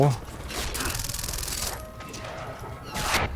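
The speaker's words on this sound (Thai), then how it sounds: "ดูมันยิงคนแม่น" Gunfire in Far Cry 3 rattles out in rapid bursts of shots at moderate loudness, and someone talks over the shooting.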